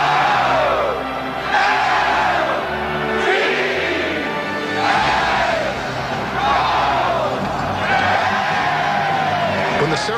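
Stadium crowd at a Colts football ceremony cheering in rolling waves of shouts and whoops, with swells repeating every couple of seconds, heard under and between a narrator's voice.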